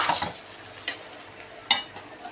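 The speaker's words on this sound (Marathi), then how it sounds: "मिक्सरमध्ये बारीक चुरा करून घेतला आणि थोडेसे तेल टाकून कढईमध्ये भाजत आहे" Crumbs of stale chapati, ground in a mixer, roast in a little oil in a wok, with a soft continuous sizzle broken by two sharp scraping stirs of a spoon against the pan.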